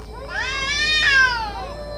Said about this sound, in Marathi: ते मांजर म्हणे मध्यरात्री येतं आणि आवर्जून आपल्याकडे पाहून मोठ्याने ओरडतं